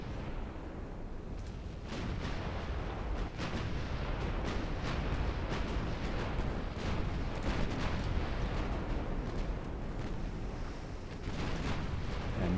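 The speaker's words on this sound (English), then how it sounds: "Nasty torpedoes. Big hits." Torpedo hits and explosions in a naval warfare video game with Greek warships, heard as continuous booming impacts and rumbling blasts that keep up a dense, loud wash with repeated sharp bursts.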